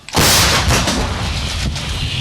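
A single loud, close artillery gun blast with a sharp onset, followed by a long broadband roar and rumble that slowly decays, fired in the field near Bakhmut.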